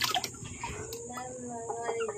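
Chickens belonging to a father at a rural Filipino home, clucking in short bursts at close to middle distance, with a few sharper calls over light background noise.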